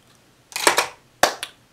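Makeup setting spray fires from a pump bottle in two close, sharp bursts, each a quick double puff of mist with a short pause between.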